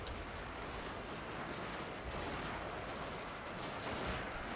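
Continuous distant artillery barrage in Fall of the Samurai, a dense, steady rumble of overlapping cannon blasts and battlefield noise at low level with no clear separate shots.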